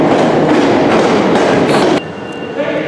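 Caledonian Sleeper train running on the rails toward Euston, a steady, loud rumbling roar with faint clickety-clack from the wheels, easing slightly quieter near the end.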